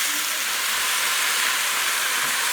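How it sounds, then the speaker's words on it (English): Beef pieces searing in a hot pan for beef green chile, giving a steady, loud broadband sizzle and hiss that runs unbroken throughout, with no speech over it. "So we're going to sear our meat."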